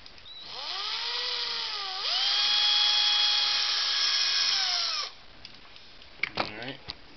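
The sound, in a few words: drilling out the center of a plastic toy ring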